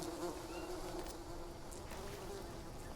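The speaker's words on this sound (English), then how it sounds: "Right there, that's the bees." Insects buzzing in the survival video game Green Hell, a dense, steady swarm of bees droning continuously at moderate level with no talk over it.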